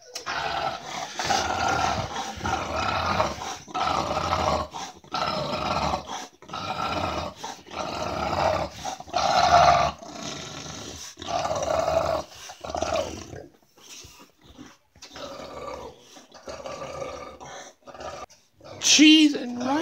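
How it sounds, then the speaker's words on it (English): A dog growls and snarls while holding a caught duck, a rough, continuous rumble up close that pauses in bursts, with a person talking and scolding intermittently over it. "My dog caught a duck."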